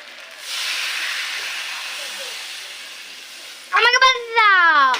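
Water poured into a hot cooking pan sets off a loud, broad steam hiss that slowly fades, then voices break in at the end.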